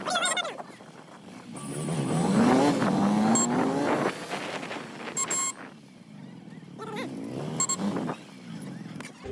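A vehicle engine revs at a Koppal village fair (jatre), its pitch sweeping upward in a loud surge and then easing off amid crowd noise and scattered voices.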